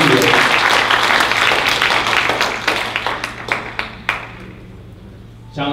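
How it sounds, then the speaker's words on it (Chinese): Applause from the audience at a community forum in Los Angeles, dense clapping that starts loud, thins into scattered individual claps and dies away, with a steady low hum underneath. "掌声鼓励"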